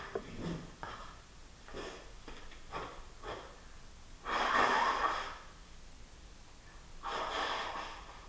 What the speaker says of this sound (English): I'm going to pause for just a minute and go blow my nose.